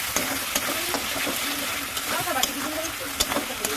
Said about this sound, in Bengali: এদিকে আমি এখানে মশলা এখন দিচ্ছি মাত্র, আর এখন নাড়াচাড়া করুন